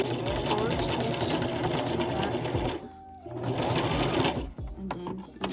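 A sewing machine runs a zigzag stitch along wig tracks in fast, continuous bursts, pausing briefly, then restarting close by, with the steady mechanical chatter dominating throughout.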